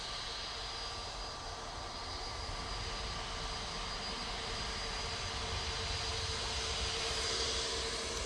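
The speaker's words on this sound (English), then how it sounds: "A321neo now coming on right in front of us" An Airbus A321neo jet airliner on approach to Manchester Airport gives a steady, broadband engine roar that holds at a moderate level and swells slightly toward the end, with no voices over it.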